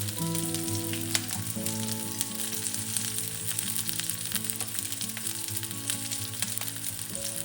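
Chili and curry leaves frying in hot oil, a steady, dense crackling sizzle that holds loud and close throughout, with faint stirring clinks and no talk.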